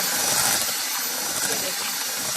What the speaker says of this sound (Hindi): ब्लेंडर से बीटर से बीट करेंगे ताकि अच्छे तरीके से ये मिक्स हो जाए।